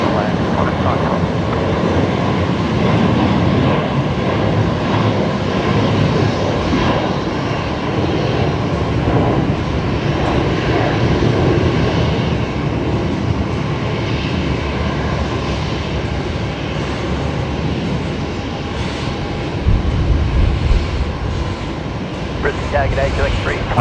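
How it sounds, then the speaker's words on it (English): Qantas 512 airliner coming in to land on runway 19 left at Brisbane Airport, a steady loud jet engine roar with broadband rumble throughout, a brief louder swell near the end, with a voice talking over it. "First, we've got Qantas 512 coming in"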